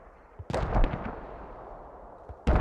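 Mortar shells slam into an enemy base in the video game Squad: two heavy, booming impacts a couple of seconds apart, each with a rumbling tail, with no talk over them.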